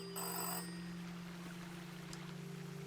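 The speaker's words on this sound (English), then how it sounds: "Telephone noises." A telephone rings in a video game, a faint electronic ring with a short brighter burst at the start and a steady low tone underneath.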